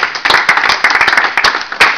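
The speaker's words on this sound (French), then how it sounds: "Oh, quelle acclamation timide." Scattered, hesitant clapping from a church congregation, a small group of hands beating in uneven bursts with short gaps between, close and fairly loud.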